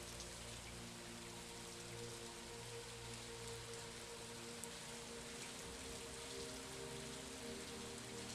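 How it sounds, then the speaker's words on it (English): Heavy rain pours down in a dense, constant hiss, steady throughout and heard from indoors at a soft level. "It just started to downpour. You can hear it."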